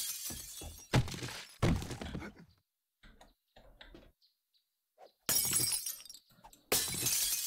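Glass shatters in the survival game 7 Days to Die, several sharp breaking crashes arriving in bursts separated by quiet gaps with small clinks and thuds in between.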